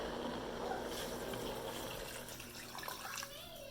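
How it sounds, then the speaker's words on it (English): Tap water pours into a cooking pot while Brazilian rice and beans are prepared in a home kitchen, a steady close rush of running water lasting throughout, with faint voices in the background. "Okay, now we're going to add some water."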